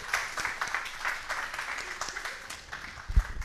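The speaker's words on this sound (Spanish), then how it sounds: "aplausos para todos" Applause for participants in an advanced zamba dance class: a small group claps close by in a loose, uneven patter for a few seconds, ending with a single thump.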